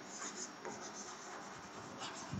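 Pen or pencil writing in a notebook during a maths lesson, a close, continuous scratching and rubbing stroke sound that fills the short moment alone.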